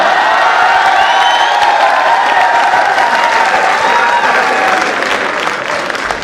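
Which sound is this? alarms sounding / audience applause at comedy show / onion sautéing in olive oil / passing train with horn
audience applause at comedy show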